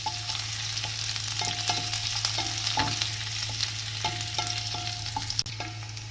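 Finely chopped green chilies and garlic frying for methi sabji are stirred in a pan, a steady close sizzle broken by repeated scraping spoon strokes and light clinks.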